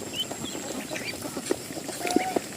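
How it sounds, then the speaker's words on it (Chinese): Ducks on a farm, a few short soft quacks heard at a middling distance over quiet background noise. "这里边怎么还有鸭子呢？"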